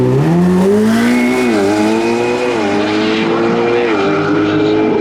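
A Ferrari 488 Pista with a 700-horsepower twin-turbo V8 screaming down a drag strip, loud rising and shifting engine tones that dip briefly at gear changes before climbing again, heard alone without talk.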